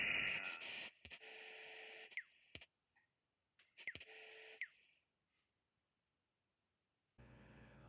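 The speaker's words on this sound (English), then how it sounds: "These stations transmit strings of numbers, letters, tones, or digital bursts over shortwave radio." A shortwave numbers station transmission comes in as bursts of static-laden tones and clicks, cutting in and out with silent gaps, then a final stretch of hiss and noise near the end.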